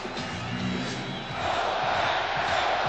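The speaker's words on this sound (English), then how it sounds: "when it starts to rain, the crowd actually cheers" A stadium crowd at an NFL game at Lambeau Field, Ravens at Packers, cheers as rain begins, a broad roar of many voices that swells louder about halfway through and holds steady.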